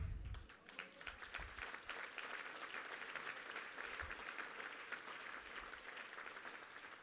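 Faint, steady audience applause spreads through a room during a talk about Dr. Martin Luther King Jr., with dense, even clapping at a distance and little talk.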